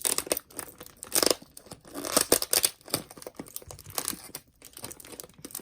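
A plastic bag of vintage costume jewelry is pulled open, giving loud close crinkles and tearing rustles in irregular bursts, with jewelry shifting inside and no talking.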